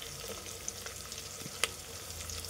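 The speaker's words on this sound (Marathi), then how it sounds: "छान परतून घ्यायचं कांदा आणि गाजर, सर्व काही मसाला" Onion and carrot with whole spices such as star anise, cinnamon and shahjira, plus a little mint, sautéing in a pan: a steady low sizzle with one sharp clink of a spoon against the pan.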